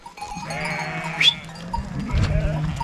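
Sheep on a snowy farm at lambing time bleat briefly amid rustling and shuffling of livestock, with one sharp close cry in the middle and low bustle rising toward the end.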